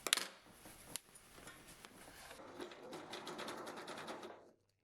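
Domestic sewing machine stitching a bra, a fast steady needle rattle running close and fairly loud for several seconds after a few sharp clicks at the start, then stopping.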